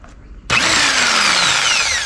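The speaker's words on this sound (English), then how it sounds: "one rough hole cut with the jigsaw, next hole to be cut" A jigsaw starts abruptly and cuts a hole for a Superstrut bed rack on a 2019 Nissan Frontier, with a loud, steady, buzzing whine and grinding rasp that continues without a break after a brief quiet lead-in.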